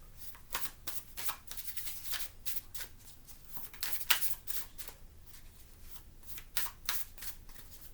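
Tarot cards being shuffled by hand, a run of quick crisp riffling bursts repeating steadily and close, with no talk over them.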